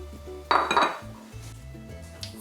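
Flour, baking powder, baking soda and salt being whisked in a bowl for chocolate chip banana bread: a brief, loud burst of metal clinking and clattering against the bowl, then softer scraping.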